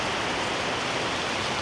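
Heavy rain pours steadily in Saigon, a dense, even hiss of water hitting surfaces around a café, loud and unbroken with no voices over it.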